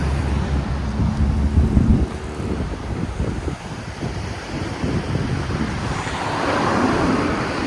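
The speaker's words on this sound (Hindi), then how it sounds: "और सामने की तरफ से बहता हुआ झरना भी नजर आ रहा है।" A flowing river and waterfall by a roadside in Georgia produce a steady broadband rush of water, mixed with wind buffeting the microphone and a passing vehicle's low rumble.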